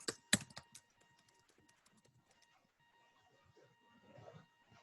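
Fingers tap out a note on a computer keyboard, with a quick burst of clicks at the start and then quieter, scattered keystrokes, close and fairly faint.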